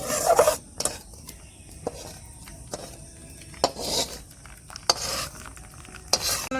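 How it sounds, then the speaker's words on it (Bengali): Tamarind chutney being whisked with salt and sugar in a bowl, giving soft scraping stirs punctuated by several sharp clinks of utensil against the vessel at irregular intervals, close and moderately loud with no talk. "একটু নুন চিনি দিয়ে ফেটিয়ে নেবো"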